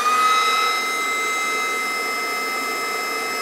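An HPA compressor's cooling fan runs with a steady, loud electric whine and airy hiss, a brief surge at the start settling into a constant tone.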